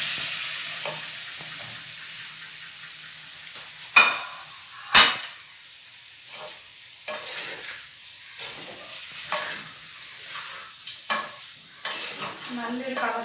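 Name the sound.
fried chicken stirred into masala in a pan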